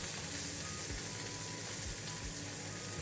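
A bright blue mochi burger patty, seasoned with salt, sizzles steadily in a hot pan, a continuous hissing crackle with no talking.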